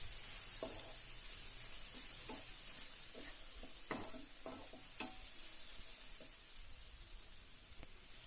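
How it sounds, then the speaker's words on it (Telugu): Bitter gourd and onion frying in a pan, stirred now and then: a steady close sizzle broken by sharp scraping strokes of the spoon, with no talking. "ఫ్రై చేసుకుంటూ ఉండాలి టూ మినిట్స్కి ఒకసారి తీసుకుంటూ చూసి కలుపుకుంటూ చెక్ చేస్తూ ఉండాలి"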